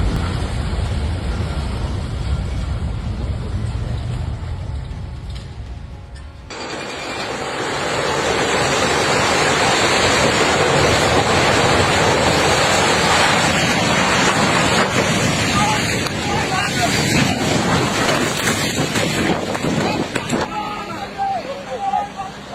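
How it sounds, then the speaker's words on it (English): Flood water thick with mud and rocks rushes in a loud, continuous roar that grows heavier partway through and keeps churning, with a voice speaking over it. "Floods are not made of water alone."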